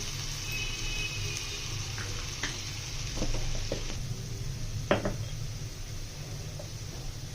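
Chopped capsicum sizzling in a pan for chicken patties filling, a steady moderate frying hiss with a few brief scraping and tapping stirs near the middle.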